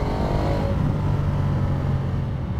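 A 2019 Ducati Diavel 1260 motorcycle engine braking in third gear in touring mode, a steady loud low drone of engine and wind roar held at constant level throughout.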